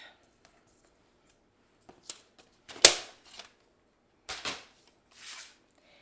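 A paper strip being cut for a card border: a handful of short, crisp snips and slicing scrapes, close and fairly quiet, scattered through otherwise near-silent air.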